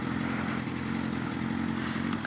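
A motorcycle engine idles with a steady low rumble on a road at sunset, then cuts out near the end; the sound is moderately loud and close, with no talking.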